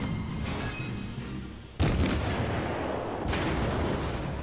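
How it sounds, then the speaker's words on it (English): Incoming enemy fire in World of Warships, where a Tier I Hashidate class cruiser is under attack, comes through as a sustained roar of distant artillery with two sudden heavy booms that leave a loud rumbling wash. "We're actually taking a lot of fire."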